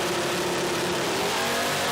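A 3RZ-powered Lexus IS200 street car launching at a radial drag racing event at Willowbank, Australia, its engine roaring loud and continuous with a steadily rising pitch, no talking.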